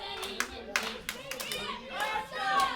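Crowd clapping at a fight in Campbell River, with bursts of applause rising and falling over a steady murmur of the audience and scattered voices nearby.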